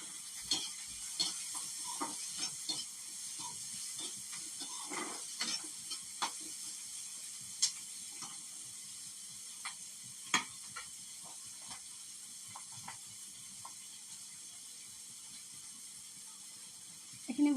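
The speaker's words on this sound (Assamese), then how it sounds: "এইখিনি প্ৰায় 2 মিনিটমান ভাজিম।" Chopped tomato, onion, chilli, ginger and garlic fry in a pan with a faint, even sizzle broken by soft ticks and occasional light pops, with no voices.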